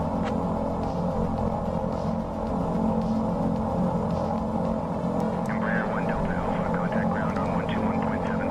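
An Embraer EMB110 twin turboprop in Microsoft Flight Simulator 2024 hums and drones steadily at idle while taxi clearance is requested, a constant engine tone throughout with a voice talking over it.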